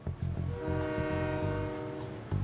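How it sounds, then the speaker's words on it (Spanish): A train passes with a sustained horn blaring over the rhythmic clatter of wheels on the tracks, fairly close and steady. "Un tren es muy largo, tiene ruedas de metal y suena así."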